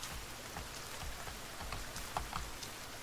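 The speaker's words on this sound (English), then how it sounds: "Does it have to rain right now?" Rain falls steadily in the survival video game The Forest, a constant soft hiss of drops with a few brief sharper patters standing out.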